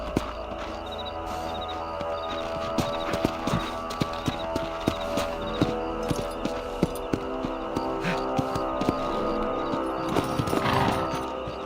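Horse hooves clip-clop at a steady walking pace in the Red Dead Redemption video game, several riders' mounts sounding fairly close over a low ambient hum, with an occasional faint snort or whinny.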